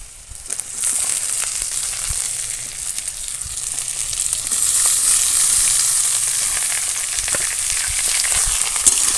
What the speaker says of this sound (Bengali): এবার এখানে জল ঝরানো মুড়ো শাকগুলো দিয়ে দেবো